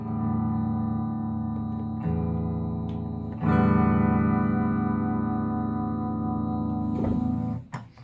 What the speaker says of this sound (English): This is the reverb and vibrato tremolo channel.